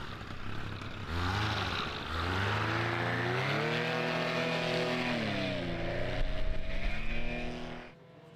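A paramotor engine on a slalom run at a world championship, buzzing steadily with a rising and falling drone, the throttle blipped near the end before cutting off.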